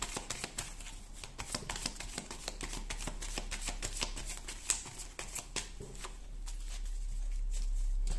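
Oracle cards shuffled by hand in a long run of crisp, rapid riffles and taps, close and steady with no talking.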